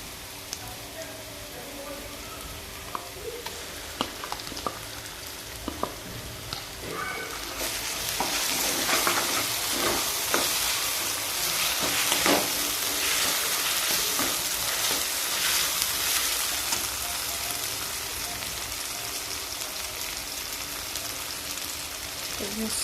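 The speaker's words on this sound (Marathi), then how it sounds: "आता ही वाटण केलेली मिरची टाकते।" Ground chili paste hits hot oil in a pan for Schezwan chutney, sparking a steady loud sizzle that swells after the first few seconds, with scattered clinks and stirring scrapes throughout.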